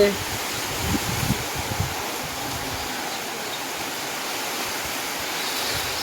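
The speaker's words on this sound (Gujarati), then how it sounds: "જો મિત્રો પાછો આપણે વરસાદ આવી ગયો છે અત્યારમાં" Rain falls outdoors in a constant broadband wash, close and steady, with a few louder patters in the first seconds before settling into an even roar.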